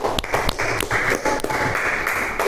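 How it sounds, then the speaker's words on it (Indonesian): Classmates in a classroom clap for a student, a short burst of uneven, close-up hand claps from a small group that continues briefly without talk. "Beri tepuk tangan untuk Mbak Valerina."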